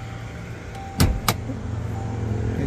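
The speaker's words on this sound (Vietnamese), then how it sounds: "kính lái auto một chạm, khóa trên cánh này" One-touch power window on a Toyota Hilux, heard inside the cab as two sharp mechanical thumps close together over a low steady hum, with no talking.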